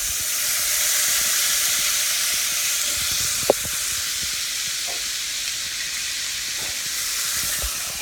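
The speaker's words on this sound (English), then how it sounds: "It's obviously sizzling quite a bit because it's still very hot" A steady hot pan sizzle hisses throughout as the pan is deglazed while cooking chicken piccata, with a few sharp clinks and taps breaking through the bright, continuous frying noise.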